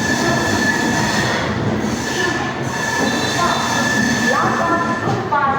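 A passenger train rolls along the tracks in Tamil Nadu with a loud, continuous rumble, metallic wheel squeals rising near the end.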